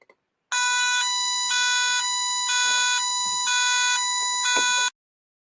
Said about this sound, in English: you should hear an alarm sounding in a second